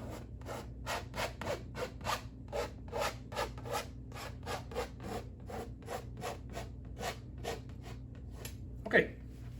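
A paint brush scrubs back and forth across a painting of mountains in a steady rhythm of about twenty soft, close rasping strokes, with a faint voice in the background.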